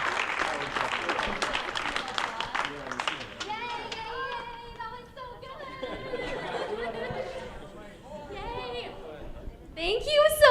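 After a live song performance at a livestreamed event, scattered clapping fades into audience chatter and children's voices, with a singing or sustained vocal line and a final burst of sound near the end.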